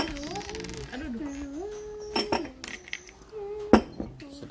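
A spoon clinks and scrapes in a glass of cold brew coffee made with orange, a few light metallic taps and swirls at close range, with children's voices and chatter around it.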